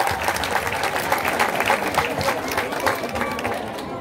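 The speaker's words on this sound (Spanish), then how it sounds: "Un fuerte aplauso para el profesor." A school crowd at the opening of the school year gives a teacher a round of steady, moderately loud clapping that fills the whole stretch.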